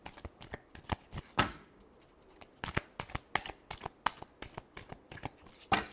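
Tarot cards being shuffled by hand at close range: a quick series of crisp riffles and slaps in an irregular rhythm, fairly quiet, with no voices.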